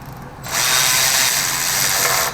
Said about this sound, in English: a Milwaukee ratchet